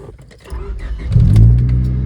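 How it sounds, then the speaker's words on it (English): A Honda Civic's engine rises in a close, steady low rumble that swells in the second half, as if accelerating while driving, with no talk over it. "I'm taking the Civic since it is my nicest looking car for now, at least."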